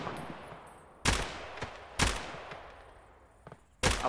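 Gunfire from a video game, aimed at an enemy in a compound: three loud, sharp shots spaced about a second apart, each trailing off in a long echoing decay, with a faint extra crack just before the last.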